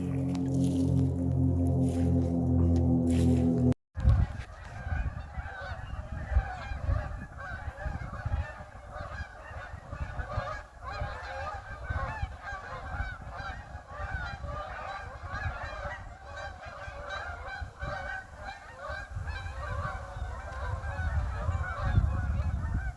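A large flock of ducks calls nonstop in flooded fields at night, a dense, steady chorus of overlapping quacks and honks that fills the whole stretch after a brief lower hum at the start.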